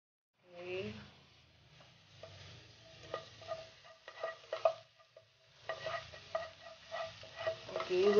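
Garlic toasts in oil in a frying pan, with soft sizzling and intermittent scraping stir strokes of a utensil against the pan, close and fairly quiet.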